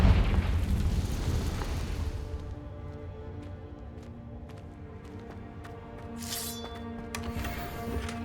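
A Confringo fire spell in Hogwarts Legacy bursts in a loud, close blast, then rumbles and decays into crackling, ringing tails with a few sharp magical pops and a bright shimmer near the end.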